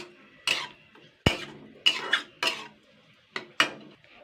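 Kochu loti (taro stolons) being stirred in a pan, a spoon knocking and scraping against the metal in about eight separate clinks and scrapes, close and fairly quiet with no talk.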